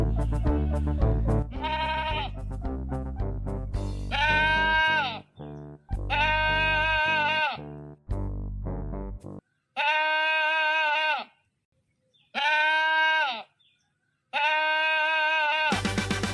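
A goat bleats loudly and close by in a series of about five drawn-out, wavering calls, separated by short pauses and preceded by a stretch of other low sounds.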